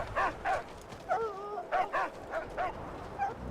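The dog Dinky D barking near a minefield in the video game Mad Max, a run of about eight short, evenly spaced barks and yips with a whining note among them, fairly close.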